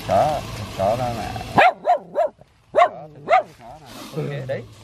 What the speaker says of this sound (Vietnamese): chó nó không chế con rắn đấy